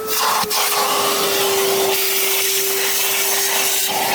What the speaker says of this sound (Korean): 자, 진공청소기를 먼저 한번 해보도록 하겠습니다.